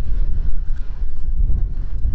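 Strong gusty wind buffets the microphone at a small river port on the Loire, a steady low rumbling roar with no voices, loud and continuous throughout.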